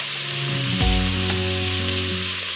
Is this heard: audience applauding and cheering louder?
no